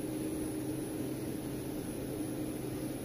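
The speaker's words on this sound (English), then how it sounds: "There's a little bit of a hissing noise." Steady broadband hiss from an underfed TXV on a walk-in cooler that is not cooling, with the solenoid valve open. It holds constant and fairly loud for the whole stretch with a low mechanical hum beneath and no talking.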